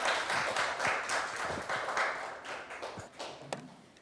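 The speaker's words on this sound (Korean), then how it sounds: "여러분 박수 부탁드리겠습니다." Audience at a youth policy proposal contest in Yeoncheon applauding a middle school student presenter, a steady wash of many hands clapping that slowly fades, with a few louder individual claps near the end.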